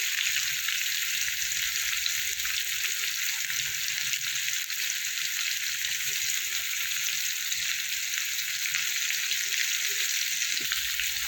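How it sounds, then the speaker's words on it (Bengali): Pumpkin, potato and grated ginger fry in a pan for a vegetarian curry, giving a continuous, even sizzle that stays steady and fairly soft from start to end. "ভালো করে একটু আদা ভাজা মতো করে নেব"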